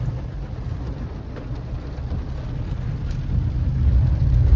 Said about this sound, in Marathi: नाही तर पाऊस बघा तुम्ही